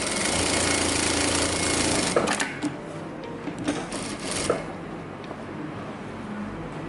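A JACK A2 direct-drive sewing machine runs loud and steady while stitching through thick layers of fabric, then drops to quieter, intermittent bursts.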